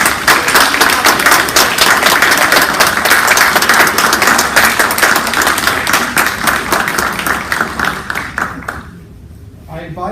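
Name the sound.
audience applause for honorees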